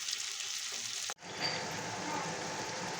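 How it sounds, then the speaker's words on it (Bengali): Capsicum and onion fry lightly in a pan, a steady close sizzle with a brief break partway before the crackling resumes and continues to the end, with no talk. "ক্যাপসিকাম ও পেঁয়াজগুলোকে হালকাভাবে ভেজে নেব।"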